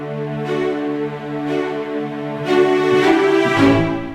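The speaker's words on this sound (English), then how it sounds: "So let's take a listen at the string ensemble performance layer." A sustained string ensemble patch from the Nucleus Lite orchestral library, with held chords that swell into a fuller, brighter passage partway through, playing alone with no voices.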